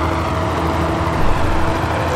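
Helicopter in the Knight Rider video game, a steady loud rotor and engine drone holding without break.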